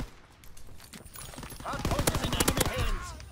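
A PPSh submachine gun fires in a video game, a loud rapid automatic burst of shots about a second long following scattered earlier shots, with someone talking over it.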